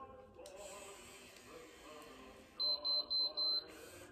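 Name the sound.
hair styling tool beeping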